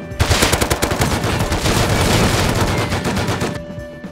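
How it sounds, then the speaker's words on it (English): Rapid automatic gunfire in the survival video game Rust during an oil rig raid, a loud, dense burst of shots that runs for about three and a half seconds before cutting off. "We are shooting in 3"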